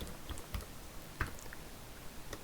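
Typing on a computer keyboard while entering Python list items, with a handful of scattered, quiet keystroke clicks and one slightly sharper press over a low background hiss.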